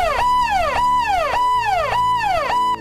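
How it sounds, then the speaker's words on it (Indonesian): An ambulance siren wails in a loud, repeating rising-and-falling sweep, close and continuous, several cycles in a row. "kok ada suara ambulan?"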